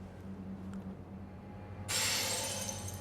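In the video game Elden Ring, an object shatters with a sudden loud burst of breaking, glassy crashing debris that cuts in after a quiet low hum and then slowly trails off.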